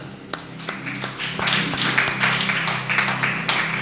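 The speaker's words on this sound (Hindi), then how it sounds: "जोरदार ताली बजाइए" A congregation at a church faith talk breaks into applause, starting with scattered claps and swelling into dense, sustained clapping.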